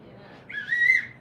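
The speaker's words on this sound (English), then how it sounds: "Blow the whistle." A single short, shrill whistle blast rises out of quiet room noise and holds briefly before cutting off, fairly close and clear.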